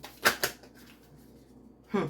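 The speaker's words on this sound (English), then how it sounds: "2 more shuffles and I'll pull from the top." Two quick riffling bursts of tarot cards being shuffled close by, followed by a quiet pause and another brief shuffle at the end.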